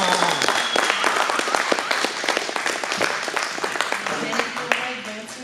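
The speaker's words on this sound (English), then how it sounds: "Can I get a round of applause?" A round of applause from the dinner crowd at a soil health funding event greets the NRCS speaker, dense clapping that holds steady and fairly close for several seconds, with a few voices mixed in.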